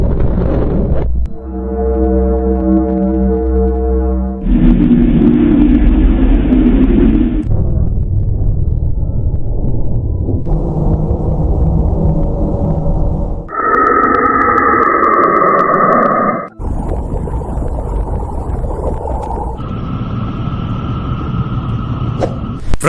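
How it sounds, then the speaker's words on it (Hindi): Radio waves from space converted into sound play as a series of eerie synthetic tones: deep hums, buzzing harmonic drones and high whines. Each shifts abruptly to the next in loud, steady blocks of several seconds, with no voice. "वैज्ञानिकों ने इसी तरह स्पेस से आने वाले रेडियो वेव्स को साउंड में कन्वर्ट किया"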